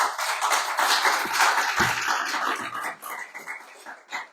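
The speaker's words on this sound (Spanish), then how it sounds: "Denle un aplauso al Señor," A church congregation applauds in a dense, continuous wash of clapping that holds steady for several seconds before thinning out near the end.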